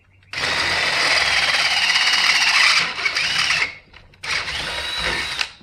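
A power drill fitted with a bit grinds into hard metal while parts of a fishing buggy's brakes are fitted, two loud sustained whining bursts separated by a brief pause.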